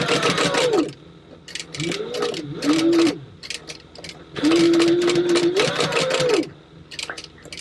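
A sewing machine stitches a wallet piece in close, loud bursts of whirring motor and rapid needle clatter, stopping and starting several times with short pauses between runs.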